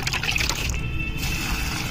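Liquid fertilizer made from soaked cow dung cakes is poured onto garden plants, giving a steady close splashing and trickling pour that continues without pause.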